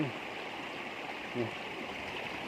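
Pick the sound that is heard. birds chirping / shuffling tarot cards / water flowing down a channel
water flowing down a channel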